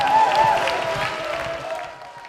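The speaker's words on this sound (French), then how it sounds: "On les applaudit!" Audience at an alphorn gathering in the Haute Thur applauding the groups, a brief, dense wash of crowd clapping and cheering that slowly fades, with a short sustained tone early on.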